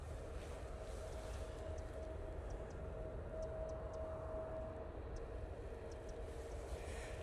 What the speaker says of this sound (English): EasyJet coming in now.